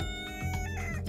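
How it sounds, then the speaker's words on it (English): A rooster crowing in the Roblox farm game: a single short, bright crow lasting about a second, heard up close. "this is my rooster and how I crow"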